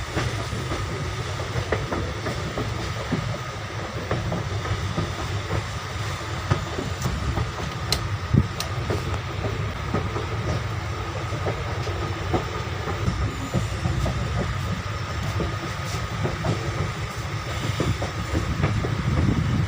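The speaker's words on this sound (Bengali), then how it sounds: "ট্রেনটা এবার টার্নিং নিচ্ছে এদিকে," A train on a mountain railway in Haflong, Assam rumbles steadily along with a continuous rhythmic clickety-clack and faint squeals, heard close and loud without speech.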